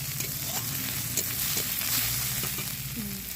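Onions frying in a pan for a chicken and potato curry give a steady, close sizzle with light crackling throughout, no talking over it.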